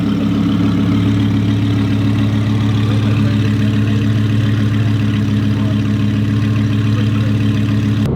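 Audi R8 V10 Plus with a straight-pipe exhaust rumbling steadily at a low idle or light cruise, a deep continuous drone heard from inside the car with the windows up, no voices.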